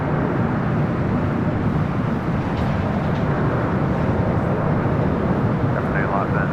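An Air New Zealand Boeing 777 airliner arrives at LAX on runway 25 left. Its engines make a loud, continuous broadband roar that stays steady throughout, with someone talking faintly beneath it.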